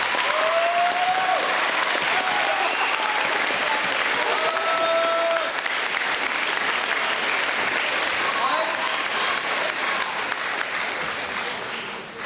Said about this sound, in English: So I would like a round of applause for George.